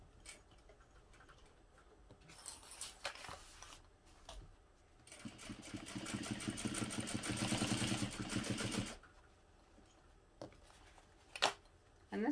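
A domestic sewing machine stitches a crossbody bag, running in one steady, fast burst of regular mechanical ticking for about four seconds. Quieter clicks and handling noises come before and after the burst.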